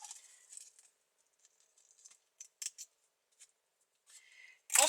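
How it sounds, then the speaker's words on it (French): Scissors snipping through lace ribbon while making a bow, a few sparse close crisp cuts with quiet gaps and a louder handling rustle at the end. "avec la dentelle, ça accroche un peu, donc on coupe pour éviter de trop abîmer."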